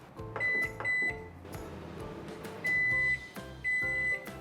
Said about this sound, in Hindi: अब इसे मारना है माइक्रोवेव जब तक कि ये दोनों मेल्ट ना होता है।